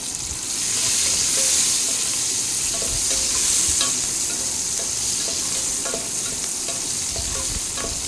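Sliced onions frying in oil with cloves, cardamom and a small cinnamon stick for Kolkata-style chicken biryani: a loud, continuous close sizzle with stirring scrapes throughout, no talk.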